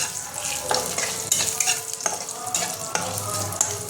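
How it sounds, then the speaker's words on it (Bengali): Potatoes fry in a pan for a Bengali-style tilapia curry with bori, giving a steady close sizzle broken by repeated scraping stirs, with no voices. "এবার আলুটা একটু লাল লাল করে ভাজবো।"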